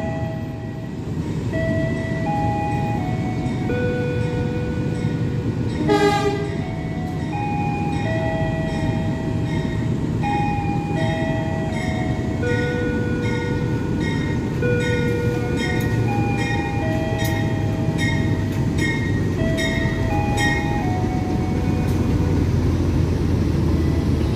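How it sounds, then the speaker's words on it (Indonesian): A Serayu passenger train hauled by a locomotive passes close by, a loud continuous roar of wheels and carriages with repeated tonal squeals and rail clatter over about 24 seconds, no talk. "ini dia kereta api Serayu dengan lokomotif"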